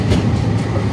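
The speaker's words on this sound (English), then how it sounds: "train going past right in front of the camera here" A train rolls past at close range, a steady, loud broadband rumble with rail noise filling the whole second, no voices.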